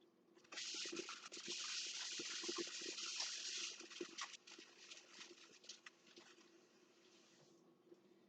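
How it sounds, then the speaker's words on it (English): Tap water running in a kitchen sink during hand washing, a steady close splashing stream that starts abruptly, then breaks up and fades as hands move under it. "And now we wash our hands."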